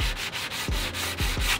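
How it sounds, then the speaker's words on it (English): Table top edge of barn wood veneer being hand sanded with 80 grit sandpaper: close, rhythmic rasping strokes back and forth, about seven or eight in quick succession, with no talking. "I'll just hand sand down here."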